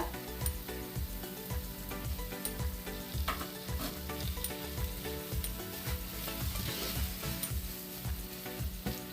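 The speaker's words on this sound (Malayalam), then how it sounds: "ഇനി നമുക്ക് ഇതിനകത്തേക്ക് നമ്മുടെ മുട്ട ഇട്ട് കൊടുക്കാം." Two boiled eggs going into a sizzling masala for a Kerala-style egg roast: continuous close frying crackle with rapid, regular stirring knocks in the pan.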